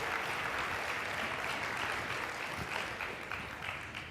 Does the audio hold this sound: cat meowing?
no